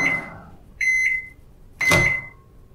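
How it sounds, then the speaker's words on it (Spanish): Microwave oven from the video game Resident Evil heating a pizza, heard as a fading hum followed by two separate clear electronic beep tones, close and alone with no talk. "¡Pizza al microondas!"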